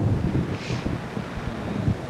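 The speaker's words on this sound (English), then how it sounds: "it's been very windy" Wind gusting against the microphone in stormy weather, a continuous low rumbling buffet with uneven surges that stays loud and close throughout.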